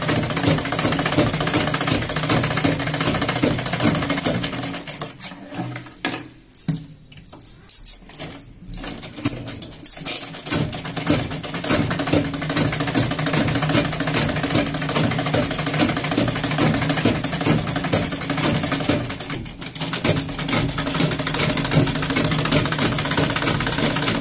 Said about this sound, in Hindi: फिर ऐसे तिरछा तिरछा सिलाई लगा देंगे एक एक इंच की दूरी पे।